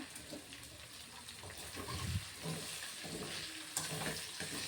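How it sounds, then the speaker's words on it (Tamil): Eggplant pieces for brinjal chilli fry in masala in a pan, giving a quiet, steady sizzle broken by a few louder bursts of stirring and scraping, with no voices. "இப்போ 2 சைடும் வேக வச்சுட்டு நம்ம தனியாக எடுத்துக்கலாங்க."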